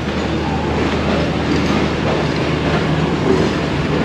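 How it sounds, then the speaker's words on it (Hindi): Eid special train hauled by a GU40 locomotive pulls into a platform, a steady dense rumble of wheels and rail noise filling the scene at close range with no talk. "3 नंबर प्लेटफॉर्म पे एक ट्रेन GU40 9050 लोकोमोटिव के साथ पहुंच रही है"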